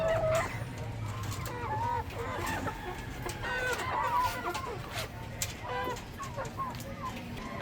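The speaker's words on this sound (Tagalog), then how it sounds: "Babaeng manok." An egg-laying backyard hen clucks repeatedly in short rhythmic bursts among other nearby chickens, with a rooster and general farmyard ambience underneath.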